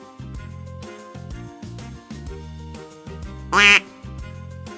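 A single short duck quack, loud and near, cuts in once over a bouncy repeating music bed.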